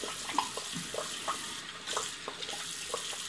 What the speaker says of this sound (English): During my dedication shave to Steven, I'll just go ahead and rinse on camera